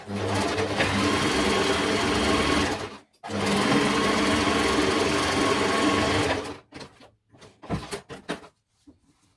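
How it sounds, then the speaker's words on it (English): A sewing machine stitches along the sides of a fabric mask in two long, steady whirring runs broken by a short pause, then stops, followed by a few soft handling knocks and clicks, close and fairly loud. "So we are going to sew both sides."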